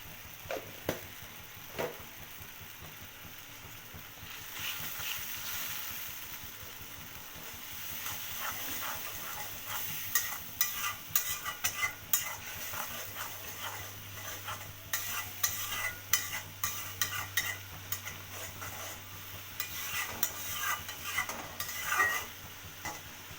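A turmeric and chili powder spice paste is stirred and fried in a pan for mung dal with rohu fish heads. A continuous close sizzle runs under busy scraping and clinking of a spoon against the pan, growing more frequent later.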